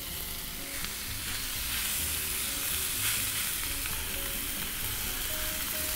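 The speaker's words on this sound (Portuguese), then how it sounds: "Panela bem aquecida. Vamos colocar essa carne." Beef sirloin sears in a well-heated pan with oil, giving a loud, steady sizzle and crackle throughout, close up and without any talking.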